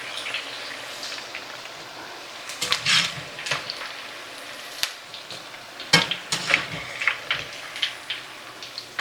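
Salmon patties fry in a pan on medium-low heat with a soft, steady sizzle, broken by occasional scraping and stirring clatters up close and no talking.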